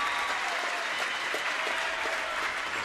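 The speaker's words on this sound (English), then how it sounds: "How about we give these athletes another big round of applause for their sportsmanship." A gym crowd at an eighth grade girls' basketball game applauds the players in steady, dense clapping that holds at full strength throughout.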